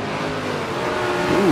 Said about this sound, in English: the LaFerrari FX6K that Golden Gates is driving is pretty much the only kind of car like race car in this match